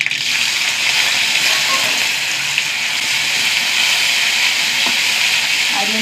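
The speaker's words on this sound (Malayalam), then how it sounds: "അരി ഒന്ന് പൊരിഞ്ഞ് വെക്കാം." Parboiled rice and mustard seeds fry in coconut oil, giving a loud, dense, unbroken sizzle close to the pan for several seconds.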